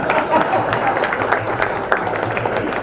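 An audience at a comedy performance bursts into loud, sustained clapping and crowd noise, close and dense throughout, with some voices mixed in.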